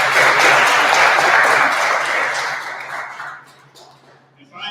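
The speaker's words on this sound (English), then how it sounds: "let's take a moment and give your families a round of applause for all the support that they gave you" An audience at a trade school awards ceremony applauds the graduates' families, a dense, loud wash of clapping that fades out toward the end.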